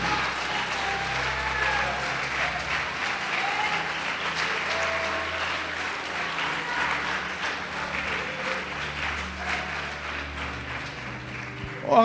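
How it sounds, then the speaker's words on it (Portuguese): Church congregation applauding during a service, with a steady wash of clapping under sustained background music or voices, lasting throughout. "Agora você pode aplaudir, mas aplaudir de verdade."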